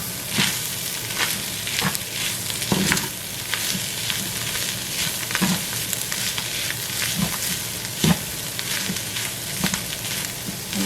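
Tomato paste fries in a pan, giving a steady close sizzle with occasional soft stirring scrapes and no talk.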